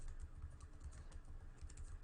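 Rapid, steady keystrokes clatter on a computer keyboard as code is typed in, close and fairly quiet, with no voices over the tapping.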